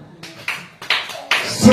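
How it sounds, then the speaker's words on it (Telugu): Congregation at a church service clapping in several short bursts, a crowd of hands rising and fading in waves with voices mixed underneath. "మనకి చప్పట్లు కొట్టండి"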